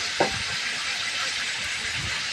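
Dried red chillies and mustard seeds frying in hot oil for a potol torka masala, giving a steady broadband hiss that stays level and close throughout, with a brief spatter near the start.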